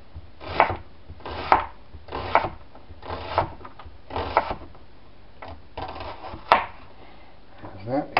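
A knife cuts through food on a board for scalloped potatoes, with a series of about nine rhythmic, moderately loud chops and thuds spaced under a second apart, alongside a voice speaking.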